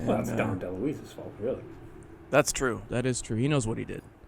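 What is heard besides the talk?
No everyday noise stands out behind the speech.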